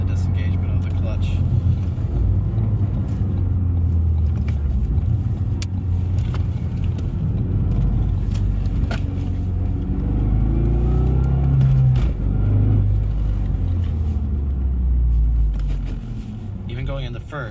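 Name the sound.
2014 Ford Focus ST car driving after clutch repair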